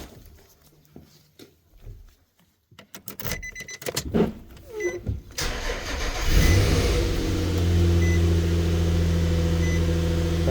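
A Nissan Frontier pickup engine cranks over with a few quick starter bursts, catches and settles into a steady, close idle that runs on without hesitation, with faint handling noises beforehand.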